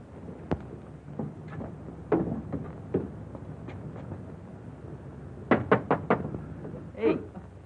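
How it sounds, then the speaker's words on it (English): Knocking at a door in a 1942 film scene: scattered clicks and soft thuds lead into a quick, close run of about four or five sharp raps near the end, followed by one softer thump. "Somebody at the door."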